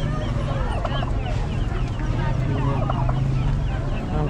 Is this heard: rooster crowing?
yes